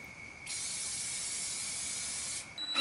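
Clear satin spray paint hisses from an aerosol can onto metal hairpin legs in one sustained burst of about two seconds, close and loud, then stops before a short second spurt.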